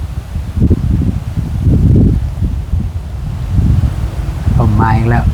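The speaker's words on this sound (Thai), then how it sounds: "ลมพัด" Wind gusts through rustling leaves on a rainy, blustery day, a steady roar with bursts of buffeting mic noise, and a voice speaks near the end.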